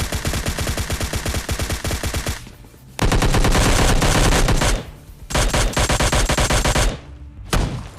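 Video-game gunfire crackles in dense, loud bursts of rapid shots separated by brief pauses, with shotguns fired by teammates from a distance.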